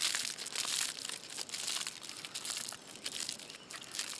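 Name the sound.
folding a baked potato pouch over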